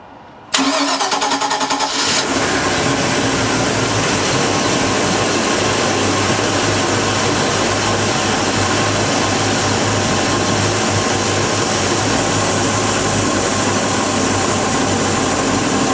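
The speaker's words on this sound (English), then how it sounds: "We'll start up the engine now and you can hear how it runs." A Bayliner 255 Cruiser's 5-litre V8 MPI boat engine cranks briefly, catches and settles into a steady, loud, continuous idle that runs unbroken to the end.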